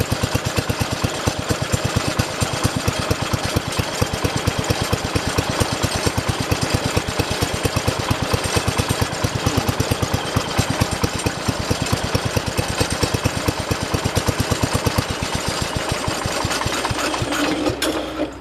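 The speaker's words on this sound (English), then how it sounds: "So the engine only wants to run with the carburetor all the way closed" A 1968 car engine runs steadily with its carburetor held fully closed, giving a fast, rough, rhythmic pulsing close to the mic that holds for the whole stretch and then drops off near the end.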